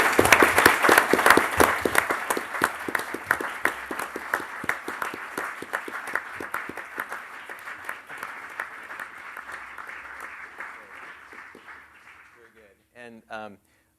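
An audience at a lecture on liberalism and conservatism applauds to honor Annette Kirk, a strong burst of clapping that gradually thins and dies away, followed by a moment of quiet and a brief voice.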